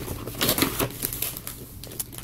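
Paper crinkling and tearing as a greeting card envelope is opened, a short series of close rustles and rips.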